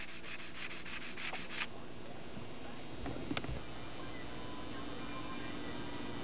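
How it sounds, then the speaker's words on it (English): Quick, rhythmic scratchy strokes of sanding against foam, close up, followed by a steady hiss with occasional soft rubbing. "work off a sanding block."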